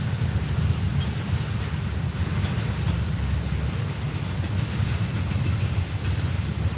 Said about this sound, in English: So this could be a long train.